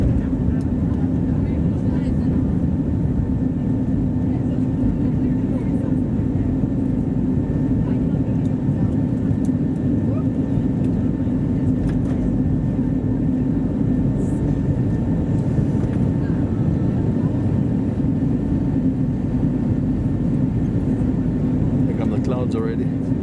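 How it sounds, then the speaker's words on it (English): Airliner cabin during takeoff and climb aboard an SAS Airbus A320neo, with a steady loud broadband engine roar and hum held evenly throughout, constant and close. "Nice takeoff. We'll be in the clouds before we know it."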